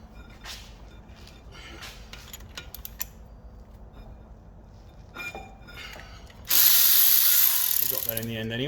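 A ratchet clicks in short bursts while undoing the 12mm pins that hold a brake disc on an Alfa Romeo 145, close and moderately loud, followed by a louder burst of broadband noise near the end.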